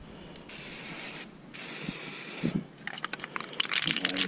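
Several bursts of spray from a hand spray bottle aimed at an RV's exterior near the tires, long steady hisses at first, then shorter sputtering squirts with crackling, close and fairly loud.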